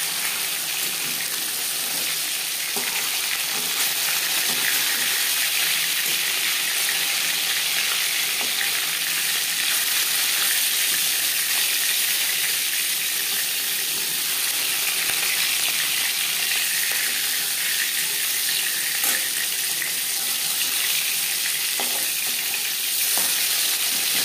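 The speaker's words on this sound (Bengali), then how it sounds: "একটা সাইড ভাজা হয়ে গেলে অপর সাইডটা উল্টে দেবো।" Silver carp pieces fry in hot oil in a pan, giving a loud, dense, unbroken hiss and crackle that stays even throughout, close up, with faint stirring and no talk.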